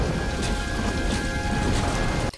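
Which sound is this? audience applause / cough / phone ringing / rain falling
rain falling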